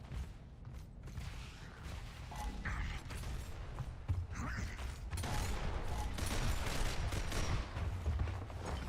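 Gunfire crackles through a busy Gears of War competitive esports match, a dense, continuous wash of game action with scattered shots and bursts layered over constant background noise, no single shot standing clearly apart.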